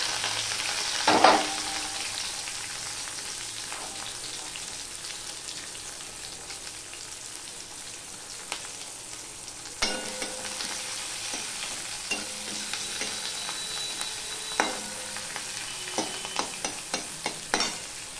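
Chopped onion and six or seven green chillies fry in a pan for a Bengali bata fish dish, a steady close sizzle with a sharp clatter early on and intermittent stirring scrapes and taps throughout.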